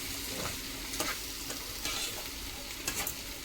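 Prawns sizzle steadily in melted butter in a pan, a constant frying hiss broken by soft scraping stirs, with no talking.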